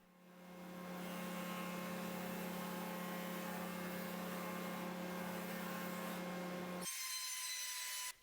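An EdgeTech edge sander smooths the top edge of a wooden storage case for a dining bench seat, giving a steady, loud whirring grind with a low motor hum that runs continuously before cutting off abruptly near the end.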